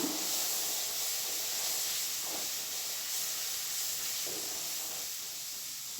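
Ingredients for a soybean curry sauté in a pan with a continuous, even sizzling hiss, broken by a few faint scrapes of stirring.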